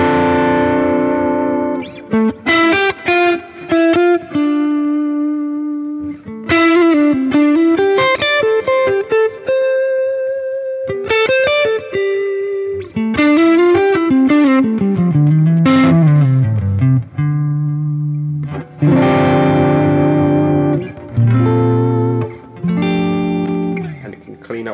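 Electric guitar through a Boss OD-3 overdrive pedal into a Fender Deluxe Reverb amp, playing chords and bending lead phrases, continuous and fairly loud with a gritty, sustained tone and short gaps between runs.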